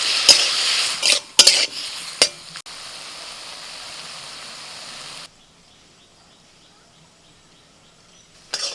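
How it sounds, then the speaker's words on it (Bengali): Tomatoes stirred while frying in a pan for a simple home-style tomato chutney: a few scraping stirs and a steady sizzle over the first five seconds, then near quiet with a faint hiss. "নাড়াচাড়া করতে করতে টমেটোটা একদম গলে গেছে"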